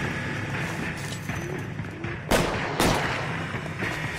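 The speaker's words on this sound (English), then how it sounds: "He shoots, so I have to shoot!" Gunfire in the video game L.A. Noire: two sharp, close shots fired about half a second apart over a steady, busy game background.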